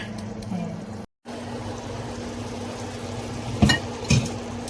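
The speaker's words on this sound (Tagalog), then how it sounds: "halu-haluin lang natin para maluto yung kabilang" Chicken adobo being stirred in a pan, with a soft steady sizzle throughout and a couple of brief clinks of the utensil against the pan near the end.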